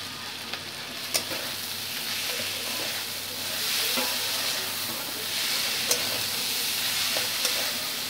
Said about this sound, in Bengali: চাল আর ডালটাকে মশলার সঙ্গে ভালো করে মিশিয়ে নিয়ে এবার আমি এর মধ্যে স্বাদ মতো নুন দিয়ে দিচ্ছি